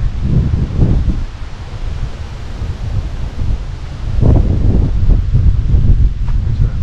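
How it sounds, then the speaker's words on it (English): Breeze gusts through a bamboo forest in Haleakala National Park on Maui, with rustling and wind buffeting the microphone in swelling waves, the stronger gusts arriving in the second half. "Breeze blowing now, you probably hear it."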